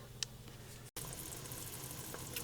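A pot of water at a high simmer on the stove for canning collard greens gives a continuous soft sizzling bubble, close and steady, broken by one brief dropout and a few faint ticks.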